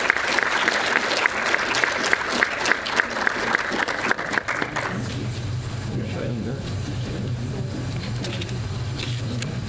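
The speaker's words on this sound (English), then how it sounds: "Give them another big round of applause, please," An audience at a film festival red-carpet awards night gives a loud round of clapping with crisp individual claps. After about five seconds the clapping stops, leaving a low room hum and murmuring voices.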